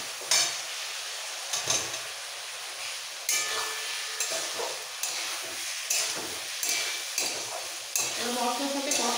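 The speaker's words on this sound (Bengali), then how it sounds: "মশলার সাথে কষাবো যাতে আলুটাও ভাজা হয়ে যায়।" Boiled potatoes are stir-fried with spices and a little sugar in a pan for street-style alu dom, with steady scraping strokes of a spatula over a constant close sizzle and no talking.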